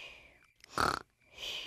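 A cartoon pig, George from Peppa Pig, snoring in his sleep: two short, rough, snorting snores separated by a brief silence, close and fairly quiet, with a faint voiced sound at the start.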